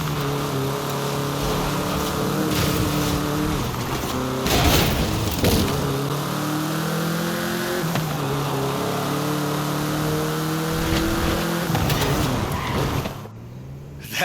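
A Volkswagen Beetle is driven in Forza Horizon 5, its small engine rising and falling through repeated revs and gear changes, with tire skids and loud, continuous motor noise and no talking.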